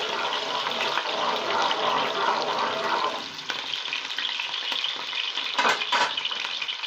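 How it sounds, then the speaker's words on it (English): Chopped onions frying in hot oil, a steady close sizzle and crackle that spreads evenly through the whole stretch, dips briefly near the middle and then picks back up with a few sharper bursts. "we are going to add in our onions. We'll just fry this for a minute."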